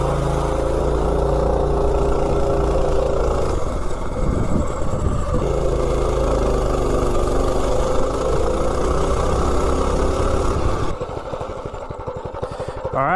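A mini bike with a stock Tillotson 212 engine runs steadily and loudly throughout, its motor droning close by with a brief dip around the middle and a rougher, lower patch near the end.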